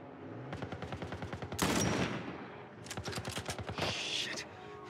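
Gunfire in The Last of Us Part 1 rattles out in rapid automatic bursts of dense, repeated shots, with a couple of louder blasts mixed in, over the steady game background.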